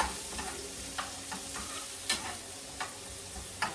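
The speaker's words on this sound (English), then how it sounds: "everybody knows onions cooked in bacon drippings is delicious anyway" Onions fry in bacon drippings in a dish, giving a soft continuous sizzle broken by occasional scraping stirs; quiet and close, with no voices.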